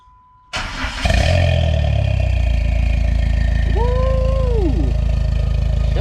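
A turbocharged Chrysler PT Cruiser with an upgraded exhaust cranks and fires up, then settles into a loud, steady idle with a deep exhaust rumble, briefly revved once midway, close to the microphone.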